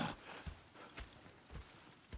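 Horse hooves clip-clop at a steady walking rhythm in the Red Dead Redemption 2 video game, moderately close and fairly quiet with no talking over them.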